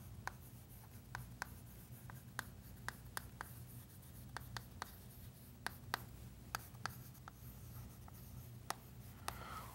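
Chalk or marker writing on a board during a math lesson on a divisibility rule for 7, with sharp, irregular taps and strokes over a steady low hum, fairly faint and without talk.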